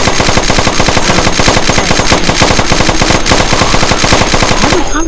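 Rapid automatic gunfire from the video game They Are Coming, loud and nearly continuous bursts of shots in a fast rhythm for several seconds, easing off right at the end.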